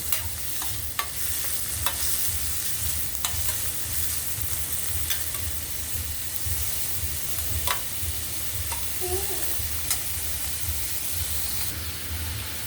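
A pan lightly roasting before okra pieces go in gives a steady, close hiss and sizzle throughout, with a few faint clicks and scrapes and no talking.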